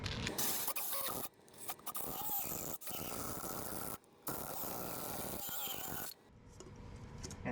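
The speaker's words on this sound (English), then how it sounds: "we're cutting down the drain to accept our drain body using an inside pipe cutter." An inside pipe cutter grinds and scrapes through the drain opening of a foam shower tray, rough continuous rasping in long bursts broken by short pauses, close and fairly loud.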